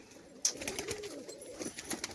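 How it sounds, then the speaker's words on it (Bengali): A red-patterned tumbler pigeon gives a soft, brief coo, faint and close, with a sharp little click or rustle near the start. "পুরো একদম হাতবাজি পায়রা"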